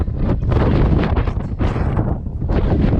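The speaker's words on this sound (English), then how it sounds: "A little bit of wind right there." Strong wind on the high slopes of Mount Washington buffeting the microphone, a loud continuous roar with gusting surges and brief lulls, heard alone without voices.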